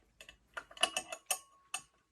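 Bolts are unscrewed from a WonderMill Junior Deluxe grain mill, producing a quick series of sharp metallic ticks and ratcheting clicks, close and distinct against near silence.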